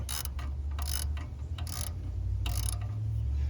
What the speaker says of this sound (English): Now we got to get our ratchet and we got to tighten that up.